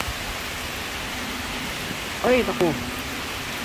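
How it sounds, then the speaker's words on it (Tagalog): Heavy typhoon rain pours steadily as a dense, close hiss that fills the whole clip, and a brief voice cuts in over the downpour partway through. "Lakas na mag-ulan, guys."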